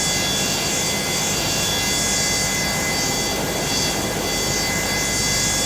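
A Boeing 727-200F freighter's jet engine spools up in the MSFS flight simulator, a steady, loud, broadband roar with a high whine that holds throughout without pause.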